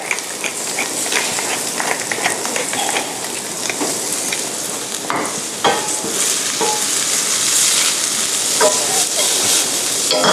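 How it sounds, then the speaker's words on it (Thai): Fennel stir-fried fast over high heat in a pan, a loud, dense, continuous sizzle with rapid scraping and tossing strokes throughout. "ผัดให้ มันสุกแต่ว่ามีความกรอบอยู่ เราผัดไฟแรงอย่างเร็ว"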